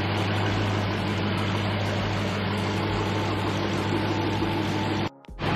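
A 2019 Dodge Challenger Hellcat SRT idles in a steady, deep drone with its engine bay open, holding an even low rumble for about five seconds before cutting off abruptly.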